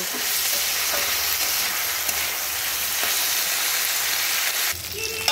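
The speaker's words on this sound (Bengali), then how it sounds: "ভালো করে ভেজে নিচ্ছি। এখানে কিন্তু আর অন্য কোনো কিছু মশলা ইউজ করব না, শুধুমাত্র নুন দিয়েই এটাকে ভেজে নেব।" Mixed vegetables fry with only salt in a wok, giving a steady, close hiss of sizzling oil throughout, with a brief clatter of stirring near the end.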